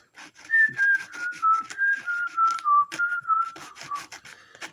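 A person whistles a wavering melody up close, accompanied by rhythmic scraping or rubbing noises in the background.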